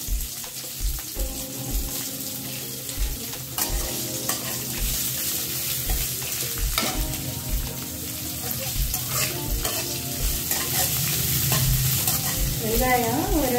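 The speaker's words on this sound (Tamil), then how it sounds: "வெங்காயம் ஒரு ரெண்டு நிமிஷம் வதங்கிட்டு" Chopped onion sautés in a pan for sambar with a steady loud sizzle. A spoon stirs and scrapes close up throughout, and faint low rhythmic thumps run underneath.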